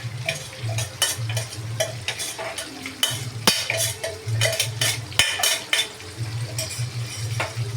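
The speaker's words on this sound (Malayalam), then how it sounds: "നമ്മൾ നല്ലോണം ഒന്ന് ഇളക്കി കൊടുക്കും" A spoon scrapes rhythmically around a frying pan, stirring a thick ground coconut paste for koottukari over a low sizzle, with occasional sharp metal clinks.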